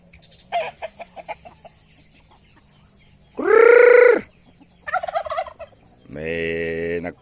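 Pet chickens and other fowl on a farm calling in the early morning, with scattered clucks followed by loud, drawn-out crowing bursts, close by.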